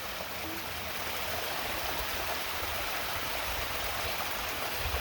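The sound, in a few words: waterfall on a canyon trail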